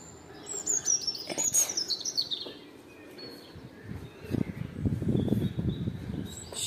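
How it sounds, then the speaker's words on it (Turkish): Birds chirping and tweeting outdoors on a terrace in Akbük, Didim, high calls scattered through the clip over a soft rustling background, moderately near. "Burada sadece kuş sesi var arkadaşlar."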